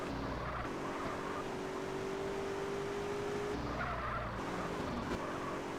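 Tires squealing as a car skids in GTA San Andreas, a long sustained screech over a steady engine drone, fading and then returning as another slide begins.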